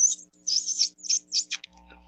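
High, thin squeaks from bats near a chimney come in a quick string of short chirps, fairly close and alone over a faint steady hum, ending in a soft low rumble.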